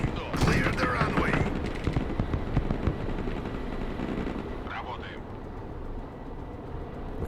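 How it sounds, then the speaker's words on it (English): Sustained rumbling barrage of grenade launcher fire in the Broken Arrow war game, dense overlapping blasts and crackle filling the whole stretch at steady loudness, with a faint voice briefly heard near the middle. "Grenade system is in place, going to start firing in a second."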